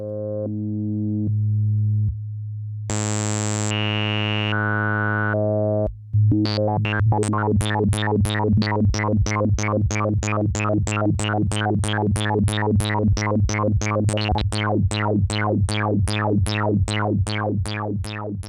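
A Moog Mavis synthesizer plays sustained pitched tones, then switches to a fast, steady rhythmic stream of bright stepped notes from sampling its VCO that repeats evenly throughout.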